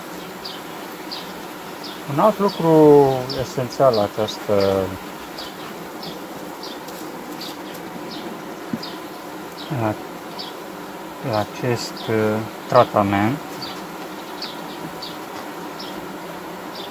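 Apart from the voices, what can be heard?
honeybees buzzing, bee separated from its colony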